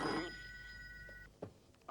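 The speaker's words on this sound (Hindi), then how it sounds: "फोन का घंटी कब से बजा है, कोनो सुनता ही नहीं है" A telephone bell rings with a bright, steady trill for just over a second and then stops, leaving a quiet room with a couple of soft knocks afterward.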